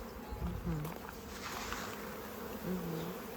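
Honey bees buzz steadily around their hive, with a few individual bees swooping close and passing by as the background hum carries on.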